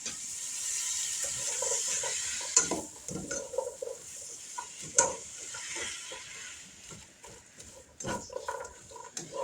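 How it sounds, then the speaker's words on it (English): Beef vegetable soup is stirred in a pot, giving irregular scraping and clinking knocks against a steady bubbling sizzle, close and fairly quiet, with no talking. "let me grab something to stir this with"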